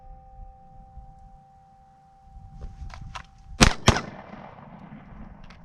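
Two sharp handgun shots at an outdoor shooting range, fired in quick succession about a quarter second apart after quiet ambient noise, fairly close, with a faint earlier pop.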